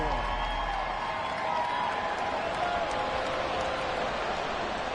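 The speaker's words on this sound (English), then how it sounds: "Plenty of shouts from this crowd as they watch the replay." Football stadium crowd at a Bengals game shouting and roaring in a steady, dense wash of noise, distant and continuous, with a commentator's voice faintly over it.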